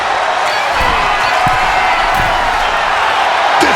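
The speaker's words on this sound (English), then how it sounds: "the crowd can't help but show their appreciation" A wrestling arena crowd in WWE 2K26 during an Iron Man match, cheering as a steady loud roar with scattered thuds from the ring and a commentator talking over it.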